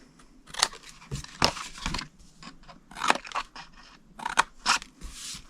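Scissors snip through paper cardstock along score lines for a craft treat box, a close series of irregular crisp cuts and crunches separated by short pauses.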